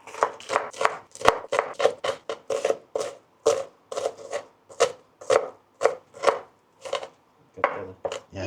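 Knife mincing onion on a cutting board for sinigang, a fast run of sharp, close chopping taps in uneven bursts, loud and with no talk over it.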